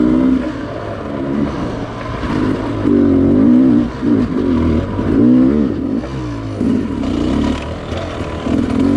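A Sherco dirt bike climbing a hill in second gear, its engine loud and close, revving and surging in repeated waves with no voices.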